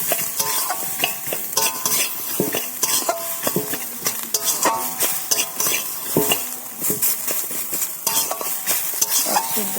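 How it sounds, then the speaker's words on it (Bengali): Washed lentils being stirred in a hot pan, with loud, busy scraping and clanking of a metal spoon against the pan over a steady frying sizzle, continuing without a break. "দিয়ে ভালো করে নাড়িয়ে নেবো।"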